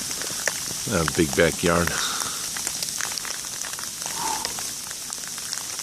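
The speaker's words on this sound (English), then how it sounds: "Yeah, it's sleet and snow," Sleet and snow falling during a Charleston blizzard make a steady, fine pattering hiss outdoors, while a person speaks briefly over it.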